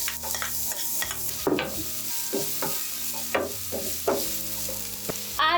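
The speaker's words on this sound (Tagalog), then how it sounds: "Once oil is heat, add the onions." Chopped onions hit hot oil for a Filipino-style meaty spaghetti sauce, giving a steady close sizzle with scraping stirs and clinks of a utensil against the pan throughout.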